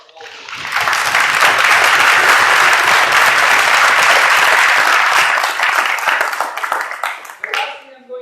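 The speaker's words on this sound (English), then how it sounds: "So we give a round of applause to all of them." Loud, dense applause from the audience at a university debate finals, rising quickly from near silence, holding a thick steady roar of clapping hands, then thinning into scattered claps as it fades.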